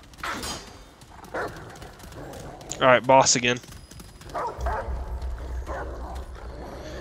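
Dog barking in the dark action game Remnant, a few loud, sharp barks in a burst midway among game sounds, with someone talking over it.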